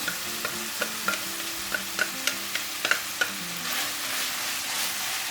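Chopped onions and minced meat sauté in oil in a pan for a bulgur-filled hunter pastry. Close, steady sizzling carries a string of sharp spatula taps and scrapes spaced about every half second, then the frying continues alone.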